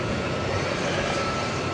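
A UPS Airbus A300 jet on flight 761 to Ontario, California, rumbles at DFW Airport at night, a steady, dense broadband engine roar from a moderate distance, with no voices.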